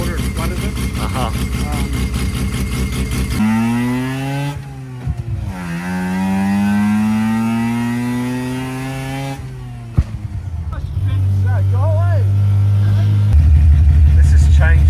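A Mazda rotary engine with a suspected air leak whistle runs close by, its droning tone rising and falling in pitch through several revs, with a steadier low hum near the end and people talking over it.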